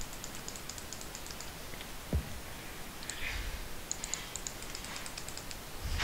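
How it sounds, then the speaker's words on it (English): Rapid, light computer clicks and key taps sound in quick bursts while a video game is played. The clicking is close and sits over steady background hiss. "I'm right clicking."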